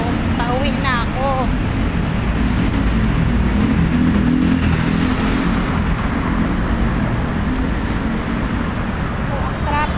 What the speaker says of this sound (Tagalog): Ang haba ng traffic sa kabilang kalsada.